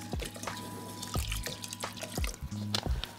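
Bottled water trickles and splashes in short pours onto sushi rice in a teaching kitchen, with several distinct drips and gurgles close by and no talking.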